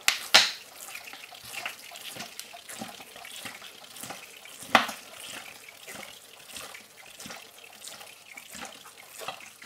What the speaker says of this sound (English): Just a little water.